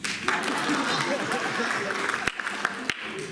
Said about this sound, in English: you can clap, thank you